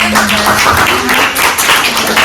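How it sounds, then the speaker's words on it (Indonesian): An audience at a university public speaking event applauds, a loud, dense wash of many hands clapping continuously with a few voices underneath. "Tepuk tangan semuanya"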